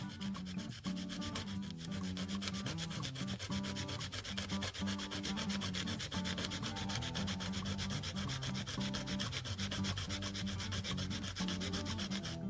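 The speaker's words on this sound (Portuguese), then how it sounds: "Coloca ela aqui na lixa e você vai lixar a pontinha da meia pérola." Steady rhythmic rubbing of a small half pearl's tip against sandpaper, close and continuous throughout with no voices.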